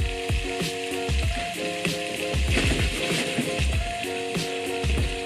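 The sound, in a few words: potatoes frying in a pan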